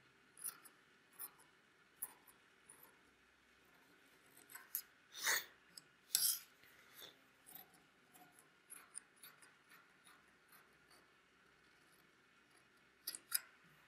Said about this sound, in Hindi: तो मैं यहाँ से गट्टा भी इस प्रकार से काट लेता हूँ।